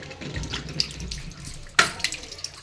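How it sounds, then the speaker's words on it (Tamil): A household tap runs with an uneven, weak flow, producing a soft splashing hiss with small drips and a sharper splash near the middle, close by and without speech. "இப்போ வந்து இந்த மாதிரி தான் தண்ணி வருது"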